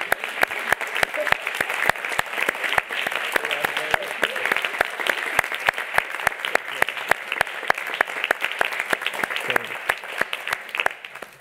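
Audience applause at an international conference at Universidad de La Laguna, with dense, steady clapping from a large crowd that runs the full length and tapers slightly at the end. Voices can be heard beneath it.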